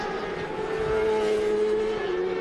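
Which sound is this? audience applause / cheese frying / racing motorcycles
racing motorcycles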